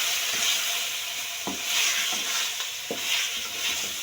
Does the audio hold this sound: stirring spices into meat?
yes